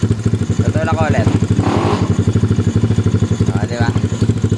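Yamaha Mio Sporty motorcycle with a 232cc four-valve liquid-cooled engine idling close by, a steady rapid low putter throughout, with someone talking over it.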